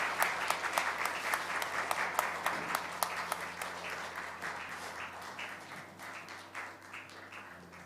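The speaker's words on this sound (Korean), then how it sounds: "성도 여러분들께서는 박수로 환영해 주시기를 바랍니다" Church congregation at Gwacheon Eunpa Church applauding during a Christmas Day baptism service, a steady wash of many hands clapping that carries on throughout and tapers slightly toward the end.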